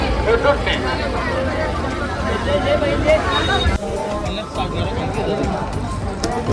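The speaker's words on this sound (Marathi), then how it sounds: "अड्ड्यात फुल गर्दी आहे." Dense crowd hubbub at a buffalo fair and bullock-cart race event, many voices chattering and overlapping at once, steady and loud throughout, with a brief dip partway through.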